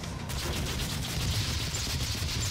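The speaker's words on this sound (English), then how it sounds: "there's just explosions going everywhere" Rapid weapon fire and explosions from the DOOM video game, a dense, loud, continuous barrage of bursts and booms filling the whole span without any talking.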